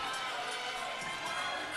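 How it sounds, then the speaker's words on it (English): The home cheering section roars at a girls' high school hockey rivalry game in Chicago, a dense, steady wash of crowd noise holding at one level throughout. "The Romans with a healthy cheering section, making some noise, mascot and all."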